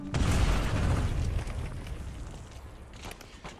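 A grenade blast in Call of Duty Black Ops 6 ranked play: a heavy, close boom that rumbles and slowly fades over a few seconds, without talk.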